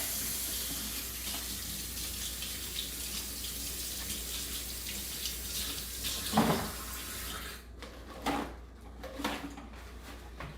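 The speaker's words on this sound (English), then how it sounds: "I'm going to wash my hands a little bit." A sink tap runs steadily as hands are washed in a kitchen, a continuous close splash of water that stops partway through, followed by a few faint clunks and handling noises.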